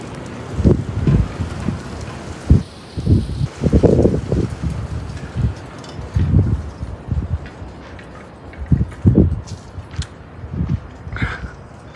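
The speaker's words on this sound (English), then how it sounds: "Because the wind, I think, is coming from the west, because I feel it." Gusty west wind buffets the microphone on a warm, dry afternoon with 20-30 mph gusts, coming in uneven rumbling bursts and lulls.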